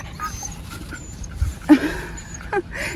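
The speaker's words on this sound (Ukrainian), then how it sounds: "бродячі собаки е, тут в мене з'явилися на винограднику" A stray dog in a vineyard pants softly and lets out short whimpers and yips, close by, scattered over a few seconds against faint outdoor background.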